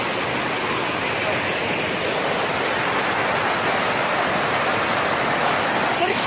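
A loud waterfall at Plitvice Lakes roars in a steady, dense rush of water that fills the whole scene without a break.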